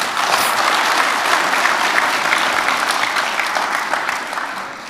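A conference audience applauding at an annual awards gathering, a dense, loud, sustained wash of many hands clapping that holds steady for several seconds before easing slightly.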